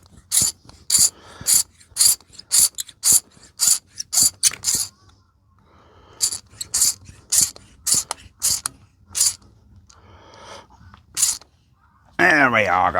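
A ratchet tightens bolts on an old Allis tractor, with quick bursts of sharp, close clicking strokes separated by short pauses. A brief louder rattling burst comes near the end.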